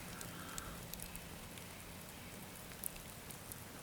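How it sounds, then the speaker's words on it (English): An outdoor campfire crackles softly with faint scattered pops and a quiet hiss in a calm evening setting. "Really makes it a pleasure sitting out here enjoying this campfire"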